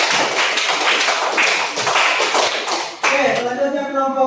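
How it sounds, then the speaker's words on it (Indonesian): A classroom of students applauds a student group, giving dense, loud clapping for about three seconds. Voices break in as the clapping fades. "Oke, beri aplaus untuk kelompok 1."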